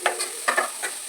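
Curry leaves and onions frying in a pan, a brief burst of soft sizzling with three or four quick stirring scrapes close by.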